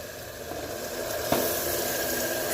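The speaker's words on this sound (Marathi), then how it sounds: "चला, आता भोपळ्यामध्ये दूध घालते।" Milk poured onto hot cooked pumpkin in a heated steel plate hisses and sizzles steadily, with a small splash partway through and a bubbling, steamy crackle that carries on, close up and with no talk.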